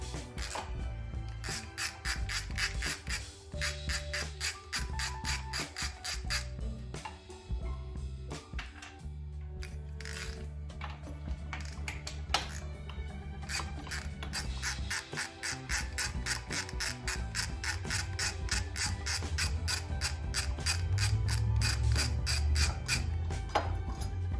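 A hand ratchet loosens bolts on a Honda K20Z3 water outlet during an Integra DC2 build, giving long runs of rapid clicking pawl strokes close by, broken by brief pauses and heavier metallic turning.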